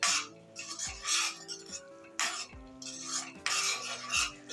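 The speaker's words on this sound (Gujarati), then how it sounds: "હવે આપણે એને એકવાર ચમચાથી હલાવી લેશું" A large spoon scrapes and stirs a brinjal and potato curry in a tomato-onion gravy, making a few distinct close scraping sweeps with metallic clinks against the pot in an otherwise quiet kitchen.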